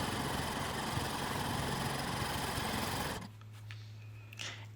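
A home sewing machine runs steadily while free-motion stitching a scribbly graffiti quilting pattern, a close, loud, even mechanical whir that stops abruptly near the three-second mark, followed by faint handling sounds.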